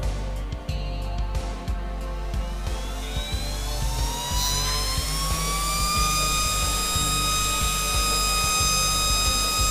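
A hot air blower used as a cooling fan over a mobile phone circuit board after chip replacement, starting with clicks and a low hum, then spinning up into a loud rising jet-like whine that settles into a steady high roar.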